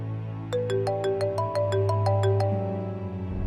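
A phone ringtone plays a quick series of bright, evenly spaced electronic notes for about two seconds over a low background hum in an indoor drama scene, with no one speaking.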